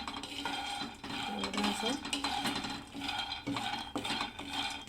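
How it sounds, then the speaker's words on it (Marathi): Peanuts roasting in a pan over medium heat are stirred steadily, giving a dense, continuous scraping and rattling of nuts against metal with rhythmic strokes of the spoon, close and fairly loud, with a brief spoken word. "थोडंसं लाल होईपर्यंत भाजायचं आपल्याला हे शेंगदाणे"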